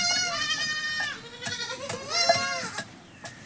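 Young goats cry for their mothers, giving several quavering bleats in quick succession, close and clear, with short gaps and a few soft knocks between them.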